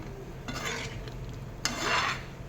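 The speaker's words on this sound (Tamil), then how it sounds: "நல்லா மிக்ஸ் பண்ணி விட்டுட்டு மூடி போட்டு மூடிடலாம்." A spoon stirs kuzhambu curry in a pot, making two short scraping swirls against the pot over a steady low hum, close and moderately loud.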